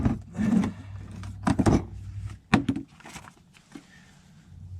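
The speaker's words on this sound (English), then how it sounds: "Alright, so here's the kit. I'm going to go ahead and open it up." A loaner ball joint press tool kit case is opened up close, with rubbing and scraping against the case followed by a few sharp clacks and knocks as it comes open.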